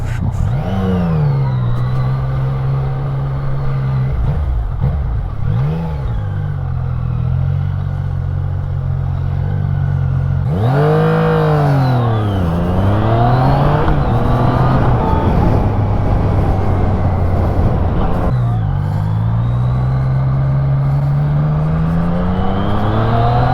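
A Yamaha MT-09 motorcycle engine accelerating while being ridden, revving up through the gears in rising sweeps with brief dips at each shift, loud and close, with wind noise and no speech.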